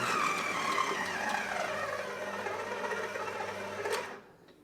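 A stand mixer kneads cheesymite scroll dough with a steady mechanical whir and hum that fades slightly. The motor is then switched off, leaving near silence.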